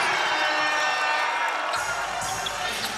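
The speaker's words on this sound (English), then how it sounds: "That got the crowd fired up." Basketball arena crowd roaring loud and sustained after a two-handed putback in a Hsinchu JKO Lioneers versus Taoyuan Pilots game, with bright broadband cheering filling the space and a deeper surge swelling near the end.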